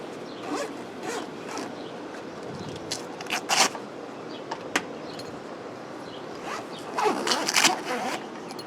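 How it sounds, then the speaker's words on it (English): Zippers on a Smittybilt soft top for a Jeep Wrangler TJ being pulled, with several short, crisp zipping bursts near the microphone over a low background hum. "I tell you, I like these zippers better than a lot of the other, some of the even more expensive tops"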